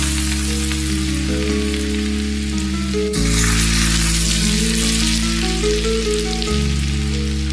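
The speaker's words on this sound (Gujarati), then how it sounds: "ઓઇલ આપણું સરસ ઉકળી ગયું છે તો આપણે એને ગરમ ગરમ લઈ લઈએ." Hot boiled oil poured over an onion-peanut chutney seasoned with turmeric and salt, setting off a loud, steady sizzle that jumps in intensity partway through and carries on without any talking.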